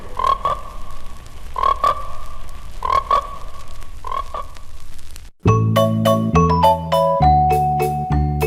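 Frogs croak in a trailer for the film Frogs: four loud, rhythmic croaks spaced about a second apart, each with a rasping buzz, followed by a sudden burst of bright chiming music.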